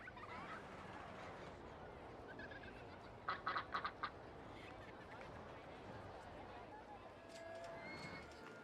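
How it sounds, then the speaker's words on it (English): Ducks quacking in the Rollercoaster Tycoon video game, a short burst of several quacks in the middle heard over continuous park ambience and background game sound. "We got some ducks."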